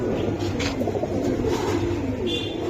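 Giribaz pigeons cooing at a pigeon market, soft, low repeated coos close by, with faint background chatter and bustle.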